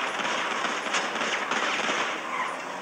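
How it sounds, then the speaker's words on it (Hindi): Rapid automatic gunfire in an online shooter video game rattles continuously at moderate level, dense and unbroken for a few seconds with no voices heard. "यार मेरे को क्यों गोली मार रहे हो?"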